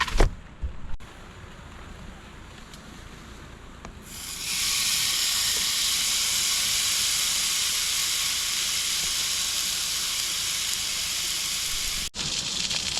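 Burgers sizzle on a camp stove at a rainy campground, with a soft, muffled start before a bright, steady hiss swells up and holds, close and continuous.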